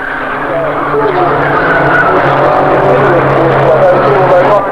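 A Saab turbo racing car in a BARC Saab Turbo Mobil Challenge race brakes hard, its tyres skidding in a steady, loud, sustained roar mixed with engine drone, heard under continuous commentary.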